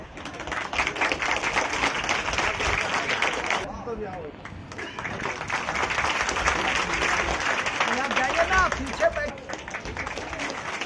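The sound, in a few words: audience clapping at a ceremony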